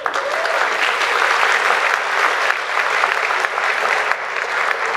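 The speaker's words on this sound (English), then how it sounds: "Give yourself a round of applause." A graduation audience breaks into sustained applause, a loud, dense crackle of many hands clapping at once that stays steady and full for several seconds.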